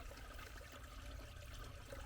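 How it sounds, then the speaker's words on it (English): Water flowing out of a stone niche in a cairn and running down into a bog below, a soft steady trickle and gurgle, quiet and close with no talk. "But this water is flowing out"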